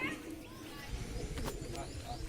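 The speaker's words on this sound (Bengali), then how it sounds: "এই দেখুন দুটো নর কবুতর এখনও ডেকেই যাচ্ছে তার পেছনে" Two male Giribaz pigeons coo softly in repeated low calls, faint and somewhat distant, under quiet ambient noise and some nearby talk.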